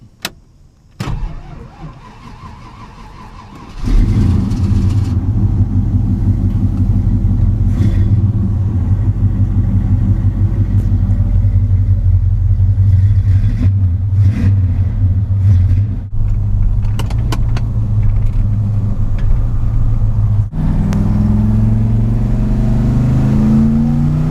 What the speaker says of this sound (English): This is the first thing in the morning cold start.